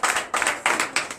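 A congregation at a night deliverance and prophecy church service claps in acclamation to Jesus, in about four loud rhythmic bursts of hand claps that come close together with brief gaps between them.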